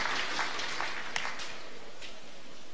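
A table tennis crowd at a doubles final claps steadily, a dense, moderately distant wash of applause rolling on evenly with no talk over it.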